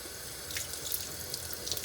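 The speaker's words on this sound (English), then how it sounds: "I'm going to start by wetting the hair." Warm tap water runs steadily from a faucet while hair is being wet at a sink during a wash routine, a constant close splashing hiss with no talking.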